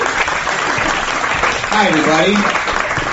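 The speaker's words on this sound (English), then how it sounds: "Please, big round of applause" Comedy club audience applauding a stand-up comic as he takes the stage, a brief burst of clapping and cheers that the comic talks over with a short greeting.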